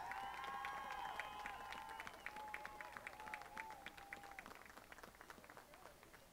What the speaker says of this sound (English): Firebird fans, please give all of our seniors one last round of applause.